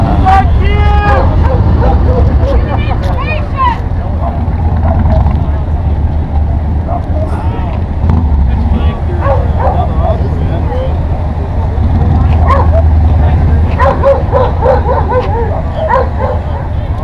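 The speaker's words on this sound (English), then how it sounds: "My dog's talking shit at Obama." A dog barks and yips repeatedly in short bursts outdoors, mixed with people talking and steady background traffic rumble throughout.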